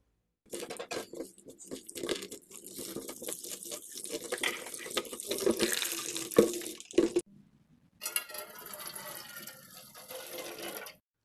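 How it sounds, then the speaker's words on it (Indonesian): Vegetables are rinsed under a running kitchen tap, with water splashing and gushing close by. The flow cuts off briefly, then resumes more smoothly. "Setelah memilih sayur, jangan lupa untuk mencucinya dengan air mengalir."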